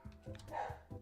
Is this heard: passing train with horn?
no